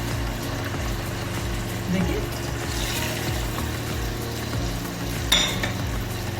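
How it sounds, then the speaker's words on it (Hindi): Chicken frying with ginger garlic paste for a shadi-style degi korma, a steady broad sizzle running throughout with occasional stirring scrapes, close and fairly loud; a brief sharp clink near the end. "अब इस स्टेज पे हम जिंजर गार्लिक पेस्ट ऐड करेंगे"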